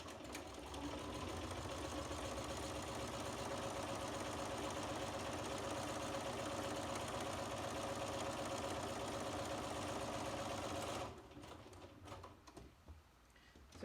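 A sewing machine stitches quilt lines in a long, steady, close-up whirring run that stops abruptly near the end, leaving faint handling sounds.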